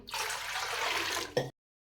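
A short, steady splash of water poured into a pot, lasting about a second before a brief clunk and silence.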